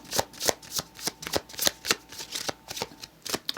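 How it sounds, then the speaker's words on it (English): A Hush Tarot card deck being shuffled, with a fast run of crisp riffling bursts and soft slaps repeating about every quarter second, close up and alone. "Let's get one more shuffle. I'm using the Hush Tarot."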